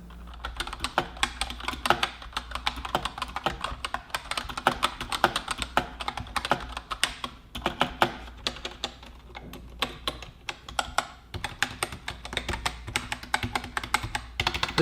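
Rapid, continuous clacking of keys on an MSI Vigor GK30 gaming keyboard during a typing test, close and even, with dense irregular keystrokes and no voices.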